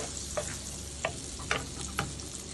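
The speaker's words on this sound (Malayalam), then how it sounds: "ലോ ഫ്ലെയിമിൽ ഇട്ടിട്ട് വേണം ബട്ടർ ഇടാനായിട്ട്" Butter melts in a pan over a low flame while tapioca is being cooked, giving a faint, steady sizzle broken by a few light taps, with no one speaking.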